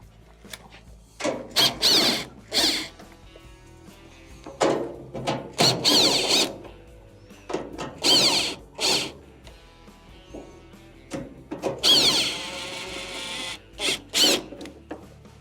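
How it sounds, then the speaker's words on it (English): A power driver whirs in short bursts, removing two 1/4-inch screws from a Maytag dryer console, with several squealing spins separated by quiet pauses, close and fairly loud. "To remove your console, you have two 1/4" screws that have to be taken off."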